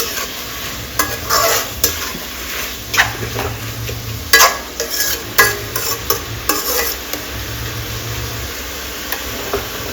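Tomato avalakki, flattened rice, fries in a pan while a spoon stirs it in repeated scraping strokes, with an irregular rhythm over a soft continuous sizzle and no talking.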